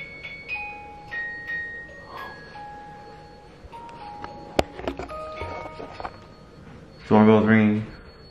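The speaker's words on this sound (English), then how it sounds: "Doorbell's ringing." A doorbell chimes several times with sustained tones, fairly faint, amid background noise and a brief clatter, followed by a louder burst of voice near the end.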